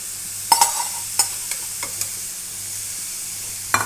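Grated carrots for carrot halwa are stirred in a kadai: a soft sizzle runs underneath while a spatula scrapes in a few sharp, irregular strokes, close and clear.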